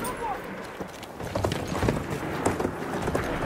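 An enemy horse rider's hooves clip-clopping at a run in Battlefield 1, a World War I multiplayer shooter, with steady rhythmic beats under battlefield noise and voices talking over the action.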